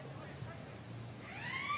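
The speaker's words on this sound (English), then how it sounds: "And the siren comes." End-of-quarter siren at an Australian football match between Sydney Uni and St George, rising faintly out of crowd and ground noise in the final half-second.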